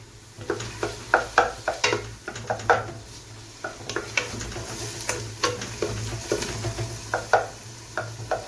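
Thin-sliced chicken breast strips stir-frying in a pan with browned onion, a steady sizzle under irregular scraping and stirring clatter from a utensil against the pan, fairly quiet and continuous.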